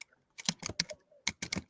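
Rapid typing on a computer keyboard during a video call, a quick cluster of sharp key clicks, then a short pause and another burst, fairly close and with no talking.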